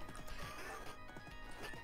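A horse neighs amid the clatter of hooves and crashing hits in the Knights of the Round arcade game, the whinny rising over dense, busy game noise across the short stretch.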